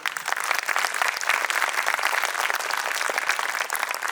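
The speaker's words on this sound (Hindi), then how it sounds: "जोरदार तालियों से लेकिन स्वागत करना पड़ेगा हमारे बच्चों का।" An audience at an annual school concert on a patriotic theme claps loudly and continuously, a dense steady wash of applause welcoming children to the stage.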